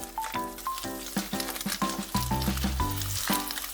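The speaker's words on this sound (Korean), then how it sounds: "갈치 한번 튀겨 볼까요?" Freshly caught hairtail fish frying in hot oil, a loud close sizzle with bubbling crackle, overlaid by intermittent sharp tonal clinks and scraping in a steady rhythm.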